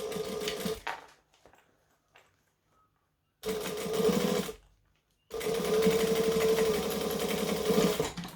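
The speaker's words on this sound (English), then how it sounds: "I'll be top stitching along this edge to stitch it closed" A sewing machine top stitches along the edge of a bag in two steady, close runs of rapid whirring, the second longer, separated by near silence.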